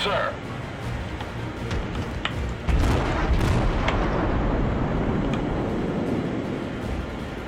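Naval gunfire and shell impacts in a World of Warships battle, heavy booms and rumbling blasts with a louder burst partway through, over a dense continuous roar of battle noise.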